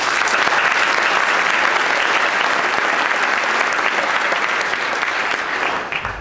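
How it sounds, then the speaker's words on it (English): Loud, dense applause from a large audience at a mayor's State of the City address fills the space steadily, then begins to taper off at the end. "Let's give them a round of applause."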